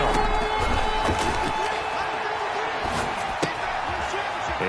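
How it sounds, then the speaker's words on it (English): Stadium crowd in an American football video game on PS4 roars steadily as a big third down approaches, a dense, continuous wash of cheering with occasional slams and claps, no one speaking over it. "The crowd getting into it as we come up on a big third down."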